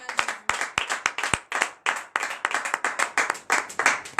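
A church congregation claps during a morning prayer service in Benin, giving sharp, uneven hand claps that run throughout, close and fairly loud, with a few hard individual slaps standing out.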